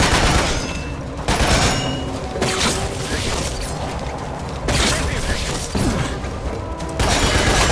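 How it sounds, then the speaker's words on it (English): Sustained automatic gunfire in Lost Planet: Extreme Condition, loud close bursts of rapid shots with brief breaks between, layered with mechanical clatter and game effects, and a voice talking over parts of it. "Shoot this guy off."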